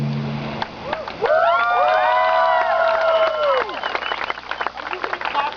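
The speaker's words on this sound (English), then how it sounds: "Are you going to clap and cheer at everything she does?" An audience at an outdoor samurai show in Iowa claps and cheers in a burst of whoops and applause, with excited voices rising above the crowd before fading into scattered noise.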